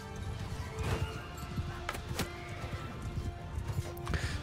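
A horse in the Mount and Blade 2: Bannerlord battle game whinnies and clip-clops amid a noisy battle with clashing hits, fairly faint throughout.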